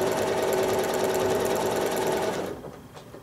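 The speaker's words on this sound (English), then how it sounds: "These are pretty short lines, so your machine shouldn't give you too much trouble for stitching in weird directions" A sewing machine stitching a quilt block runs in a fast, even mechanical whir with a rapid needle rhythm, close and steady, then stops abruptly near the end, leaving faint handling clicks.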